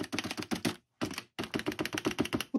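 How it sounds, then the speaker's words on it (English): Typing on a Keychron K7 mechanical keyboard produces rapid clusters of close, thunky keystrokes, with two brief pauses between bursts. "it has the worst sounding thunk out of any keyboard I have ever typed on"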